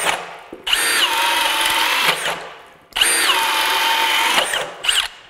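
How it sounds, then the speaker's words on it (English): A Milwaukee M18 FUEL 2906-20 half-inch hammer drill bores with a 1-inch spade bit, two loud bursts of high whining spin, each winding down as the bit loads, separated by short pauses. "Here's a 1-inch spade bit on level 2."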